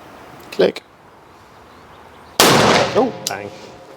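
A revolver fires one sharp, loud shot on an outdoor shooting range, preceded by a brief click and followed by a short voice.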